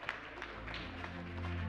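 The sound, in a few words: audience applause at an awards ceremony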